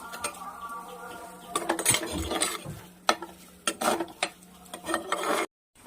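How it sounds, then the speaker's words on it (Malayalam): Mustard seeds splutter in hot coconut oil as shallots, garlic and curry leaves sauté, making close crackling pops mixed with scraping and clattering stirring in the pan. "ആദ്യം വെളിച്ചെണ്ണ ഒഴിച്ചിട്ട് കടുക് പൊട്ടിച്ചിട്ട് കൊച്ചുള്ളി, വെളുത്തുള്ളി, കരിവേപ്പില ഇട്ട് മൂപ്പിച്ചെടുക്കുക"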